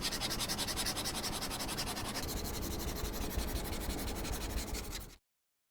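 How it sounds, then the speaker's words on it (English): A stylus pen draws across the grainy, paper-like screen of a Wacom Cintiq Pro 32, giving a steady, loud, pencil-on-paper scratching that runs continuously for about five seconds and then stops abruptly. "When I draw on the Cintiq Pro 32, the surface feels like it has more friction. It feels grainier and more like paper."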